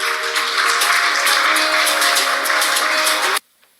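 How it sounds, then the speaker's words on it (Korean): Conference audience applauding loudly and steadily as a speaker is welcomed, a dense sustained clatter of clapping that cuts off abruptly near the end. "큰 박수로 부탁드립니다."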